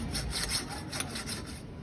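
A saw cuts through iron in quick, steady back-and-forth strokes, a harsh rasping rhythm heard close up with no talking.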